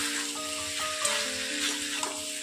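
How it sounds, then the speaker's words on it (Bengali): Potatoes being stirred in a pan of hot oil for aloo posto, cooked without turmeric: a steady sizzle fills the clip, with soft scraping strokes every half second or so and a few sharper knocks. "এবার এটাকে একটু ভালো করে নেড়ে নেব"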